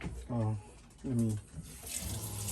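Cold water runs from a tap fed by a tank, a steady close hiss of flowing water beneath two short spoken exclamations.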